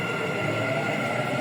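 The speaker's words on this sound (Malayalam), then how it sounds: "അതാണ് ട്രെയിൻ വന്നിരിക്കുന്നത്" Dubai Metro train pulling into a station, a close, loud, continuous rumble and whine of the cars filling the short moment, with no clear voices over it.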